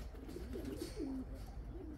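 White pigeons give soft, low cooing calls, a few gentle throaty coos, faint and close against quiet outdoor background.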